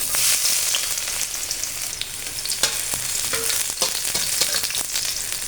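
Garlic sizzles steadily in hot cooking oil in a pan, a close crackling hiss with occasional sharper pops and clicks of stirring.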